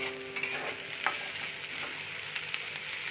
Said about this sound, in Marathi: शिमला मिरची टाकते मी आता याच्यात थोडंसं परतून घेणार आहे